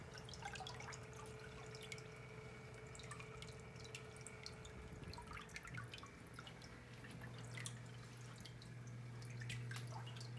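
Aquarium water gently moved by two Maxspect Gyre XF 330 pumps running at full constant flow, a soft steady wash with faint drips and trickles plus a low steady hum underneath, no talking.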